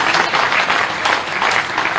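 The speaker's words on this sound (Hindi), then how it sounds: "उनका भी ताली बजा के स्वागत कीजिए" A crowd applauds at a BJP rally at the party office in Bhopal to welcome a politician, producing dense, loud, continuous clapping that fills the whole moment without pause.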